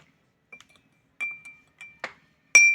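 A spoon stirs a mixture in a glass, giving a handful of sharp, close clinks at irregular intervals, with the last strike the loudest and ringing briefly.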